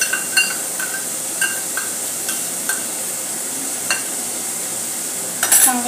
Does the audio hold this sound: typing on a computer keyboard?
no